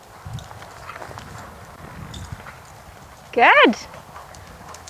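A horse canters during a riding lesson over jumps, with soft, rhythmic hoofbeats in the background and a brief, loud vocal exclamation near the end.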